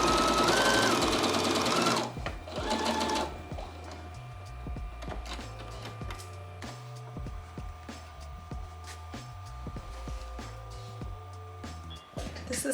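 Sewing machine stitching around the top of a shirred summer dress, a loud steady motor whir at first, then a quieter stretch of stop-and-start running with soft handling clicks and rustles.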